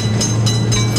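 A video-game train rumbles past a railroad crossing with a steady low drone and rhythmic wheel clacks on the rails, loud and close.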